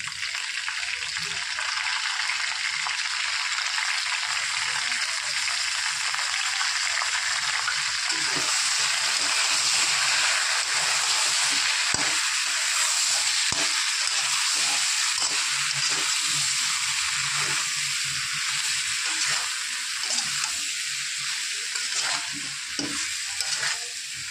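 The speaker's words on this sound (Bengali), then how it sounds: "আলু আর বেগুন একটু হালকা নুন আর হলুদ দিয়ে ভেজে নেব" Potatoes and eggplant fry in hot oil with salt and turmeric, a loud, steady sizzling filling the whole stretch, with occasional soft stirring scrapes and no talking.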